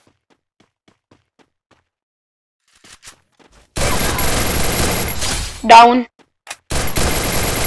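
Loud rapid bursts of automatic gunfire in a shooting video game, beginning after a near-silent opening, broken briefly by a short voice, then resuming.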